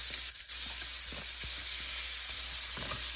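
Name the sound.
fish frying in butter in a pan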